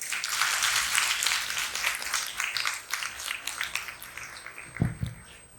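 A crowd at a teachers' training camp gives loud applause, a dense sustained clapping that gradually fades, with a couple of low thuds near the end.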